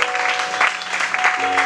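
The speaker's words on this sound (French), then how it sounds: "Est-ce que quelqu'un peut acclamer le Seigneur?" A church congregation applauds and cheers for the Lord during a French-language sermon, with loud, close, dense clapping and voices mixed in.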